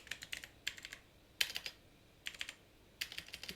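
Bursts of typing on a computer keyboard while entering a command in a browser, several quick clusters of light key clicks separated by short pauses, fairly faint and close, with no talking.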